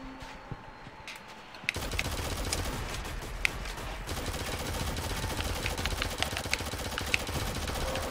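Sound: gunshots in the video game Shadowgun Legends

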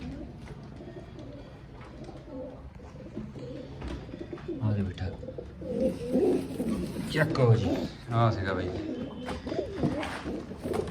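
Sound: pigeons cooing in a room while being caught

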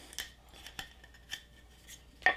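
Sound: chisel struck cutting into oak

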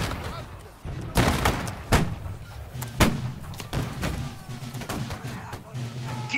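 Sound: gunfire in the video game Holdfast

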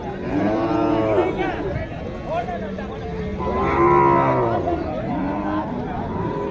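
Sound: cattle mooing

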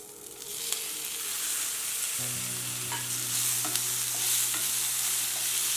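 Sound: onion and tomato frying in pan

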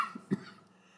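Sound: cough

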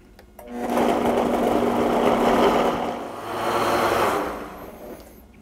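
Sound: blender pureeing cream of broccoli soup

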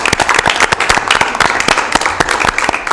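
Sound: round of applause at a board meeting

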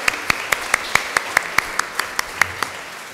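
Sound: audience applause welcoming attendees

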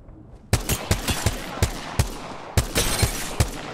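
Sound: gunshots in the video game Apex Legends

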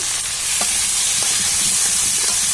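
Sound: water poured into sizzling spiced tomato masala in pan

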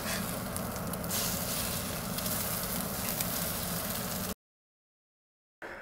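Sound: food frying in cast iron skillet

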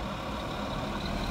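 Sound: truck leaving the Gerdau factory

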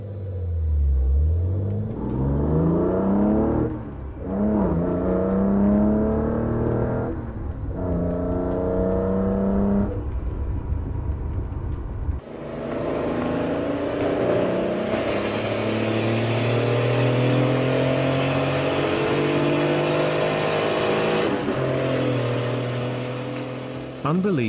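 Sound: engine rumble of six-cylinder car and Yamaha XSR 900 motorcycle

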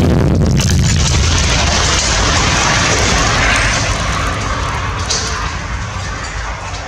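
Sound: missile launch shot

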